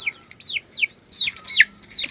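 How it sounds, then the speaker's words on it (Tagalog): Rhode Island Red hens cluck and squawk close by, around six sharp rising-falling calls in quick succession with short pauses between them. "Yan ang mga Rhode Island red."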